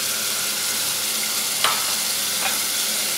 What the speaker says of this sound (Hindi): इसको अच्छे तरीके से मिक्स करेंगे।